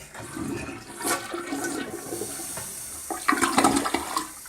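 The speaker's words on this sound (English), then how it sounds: "Now, the toilet will not flush down." A household toilet that does not flush all the way, giving a full gurgling flush with rushing water, a brief lull, then a louder surge of swirling water near the end.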